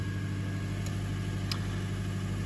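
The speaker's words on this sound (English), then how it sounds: "the engine revs are going up a slight little bit" A Skoda Superb engine idles steadily at close range around 2000 RPM, a constant low rumble with a faint high whine and no voices.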